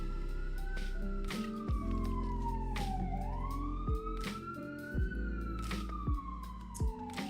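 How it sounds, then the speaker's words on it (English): An ambulance siren wails outside, its long sweeping tone falling and rising as it passes, heard steadily for several seconds amid other background sounds. "Ambulances keep going by me."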